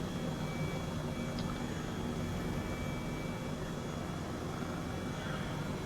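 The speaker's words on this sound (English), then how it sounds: "I'd like to show you just how easy it is to land this helicopter." Airbus H135 helicopter in Microsoft Flight Simulator 2020 producing a steady, even rotor and turbine drone that holds at constant level throughout, with faint speech-like murmur beneath.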